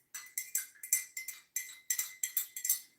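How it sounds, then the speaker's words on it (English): A spoon clinks repeatedly against the inside of a coffee cup while stirring, in quick bright taps grouped in short bursts, close and fairly quiet with no talking. "I just need a free hand to stir this coffee."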